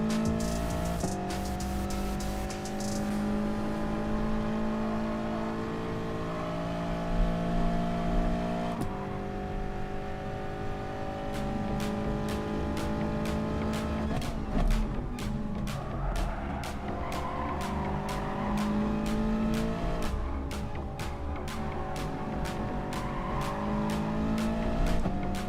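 A race car in a racing game at the Nürburgring GP circuit, the engine droning and climbing through revs with repeated gear changes, tyres squealing through corners, loud and continuous with no talk.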